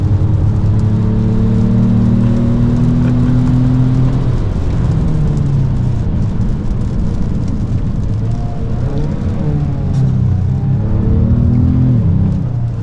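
A 2025 Ford Maverick LOBO pickup, lowered and on bigger wheels with upgraded brakes, driving hard on the Road America race track: a loud steady engine drone with rising pitch through the gears and a drop at a shift, wind and road roar throughout.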